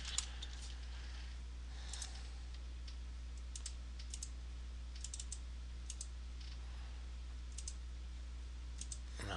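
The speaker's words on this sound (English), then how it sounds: "She needs to come in here, type her password." Someone types a password on a Windows XP computer keyboard, a short run of soft, quick key clicks with a few sharper taps over a low steady hum, no speech.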